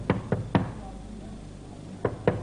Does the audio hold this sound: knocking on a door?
yes